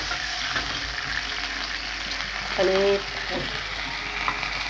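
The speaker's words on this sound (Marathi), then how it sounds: "लसूण टाकायचा छानपैकी फ्राय करायचा है ना त्याच्यानंतर हळद टाकायची" Garlic and turmeric frying in a pan of hot oil, a constant close sizzle with a brief scrape of stirring partway through, while someone speaks a word over it.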